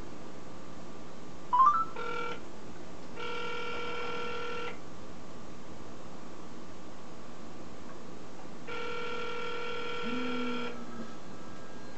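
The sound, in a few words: cell phone ringing inside refrigerator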